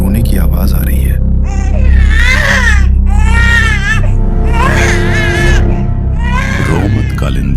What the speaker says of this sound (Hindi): डिब्बी के अंदर से एक छोटे बच्चे के रोने की आवाज आ रही है।